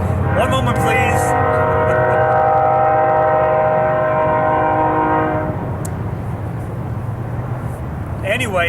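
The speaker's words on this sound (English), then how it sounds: "anybody got a train whistle volume control I can use?" A train whistle sounds loud and close as a long, steady multi-tone blast lasting about five seconds, then cuts off, leaving rumbling rail noise with a voice talking.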